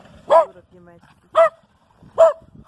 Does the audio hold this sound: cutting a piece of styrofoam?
no